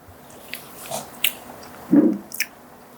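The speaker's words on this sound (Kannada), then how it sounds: "ಈಗ ನನ್ನ ಕೈಯಲ್ಲಿರೋ ಈ ಮಿರಾಕಲ್ ಫುಟ್ಟನ್ನು ತಿನ್ನೋಣ" Someone bites into and chews a miracle fruit, close, soft mouth sounds with a few wet crunches and a louder chomp near the end, no talking.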